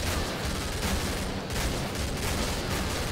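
Rapid bullpup rifle fire in the shooter game Killing Floor, a dense, continuous burst of loud gunshots with no talking.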